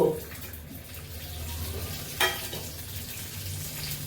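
Cashews frying in ghee give a steady, close crackling sizzle, with a sharp spatter partway through.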